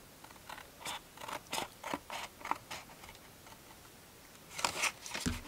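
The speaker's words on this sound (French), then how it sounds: "On coupe, on coupe, on coupe." Scissors snipping through folded paper while making a cube craft with baubles and garlands, a run of quick crisp cuts in an irregular rhythm, a pause, then a louder cluster of snips near the end.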